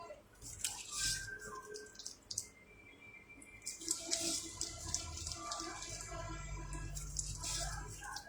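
Water running and splashing while a face is rinsed, with drips and a trickle from a tap, quiet and close, and soft background voice sounds mixed in.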